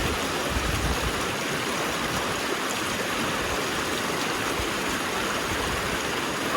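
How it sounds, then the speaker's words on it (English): Water splashes and streams continuously over the ripples of a Keene A52S gold machine, a steady rushing wash with slight surges, close and fairly loud, with no voices. "Takes a little bit of splashing of water."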